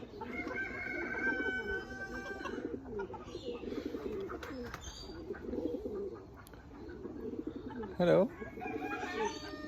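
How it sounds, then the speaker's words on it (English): Polish chicken clucking and calling close by, with other fowl and birds around, under a voice speaking a greeting; a louder squawk stands out near the end. "So today we got this very special chicken. So it's called a Polish chicken."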